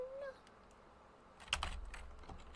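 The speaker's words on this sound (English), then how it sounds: "That's what the typing noises are." Someone types on a computer keyboard, giving quiet, rapid clicking taps in the second half after a brief faint meow-like tone, with soft room noise throughout.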